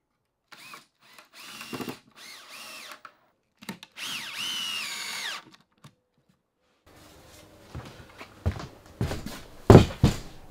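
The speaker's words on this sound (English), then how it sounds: "get them locked in place with four screws each side" A power drill drives screws into brackets on a portable sheet-good cutting platform, in several separate bursts of whirring motor whine with brief quiet gaps and some clatter near the end.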